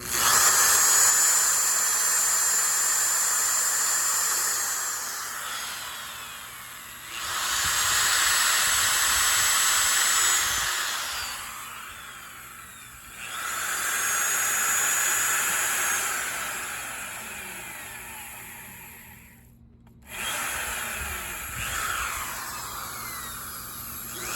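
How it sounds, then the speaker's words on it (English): A power drill with a 7/64 bit whines in several long bursts while drilling holes in wood, separated by short pauses, close and steady, with no talking. "next I'm going to use a 7/64 bit and drill these 4 holes"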